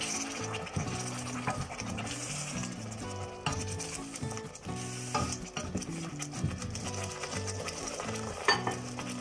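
Punjabi chole, a chickpea curry, simmers and sizzles in a pan with steady spoon stirring and scraping. Dense, continuous frying texture sits close up, with no talking.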